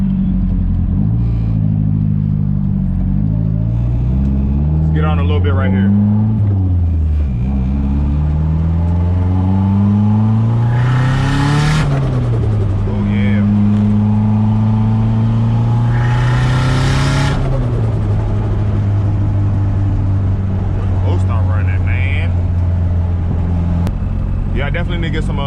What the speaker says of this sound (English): Hopefully y'all can hear that turbo flutter too,